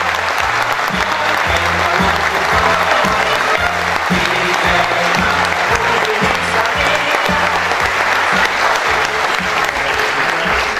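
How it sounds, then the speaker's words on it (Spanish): A school ceremony audience claps for the flag bearer and escorts while a band plays a rhythmic march underneath, the clapping dense and steady for over ten seconds. "A todos ellos, nuestro más fuerte aplauso."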